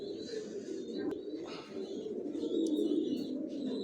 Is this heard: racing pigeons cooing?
yes